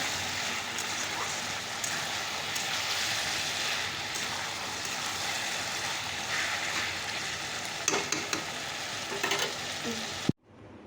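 A vegetable cooking with small fish in a pan gives a loud, continuous close sizzle and crackle with light stirring, ending in a brief clatter before cutting off.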